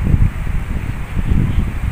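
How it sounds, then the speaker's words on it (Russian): Strong wind in Mersin, Turkey buffets the microphone with a steady low rumble and gusty roar that swells and eases throughout. "Ветер сильный."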